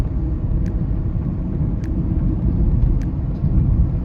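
An electric car accelerating slowly with the pedal fully pressed, its speed capped near 55 km/h, gives a steady low road rumble and cabin drone with a few faint clicks, no voices.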